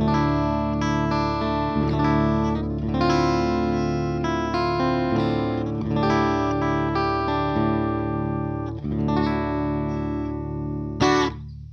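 Electric guitar through the Universal Audio Ruby 63 amp plugin, clean chiming chords ringing and sustaining in a steady flowing strum for several seconds, loud and close, ending on a bright accent, no voices.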